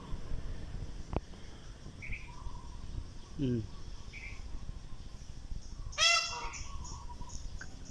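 Two peacocks calling from a high evening roost, a loud honking burst of calls near the end, with a shorter call earlier and faint insect chirps in the background.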